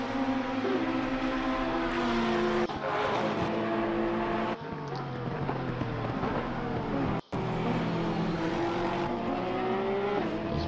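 Race cars circulate at Kyalami, their engines a continuous high whine that rises and falls as they shift gears and pass, loud and close for the whole stretch.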